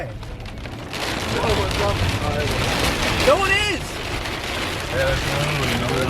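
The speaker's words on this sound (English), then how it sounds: "Oh, look how big the fucking drops are. It's like golf balls almost." Heavy rain pounds steadily in a massive tornado storm, with huge drops drumming hard and continuously, loud and close, while people talk over the roar.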